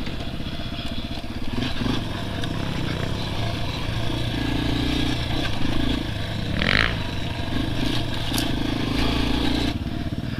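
A dual-sport motorcycle rumbles along at riding speed, its engine drone close and continuous. The pitch shifts a little as it goes, and a brief scraping flare comes partway through.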